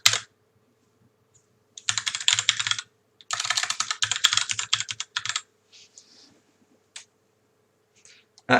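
Fast typing of an email address on a computer keyboard during software registration, two loud close bursts of rapid key clicks separated by a short pause, then a few scattered taps.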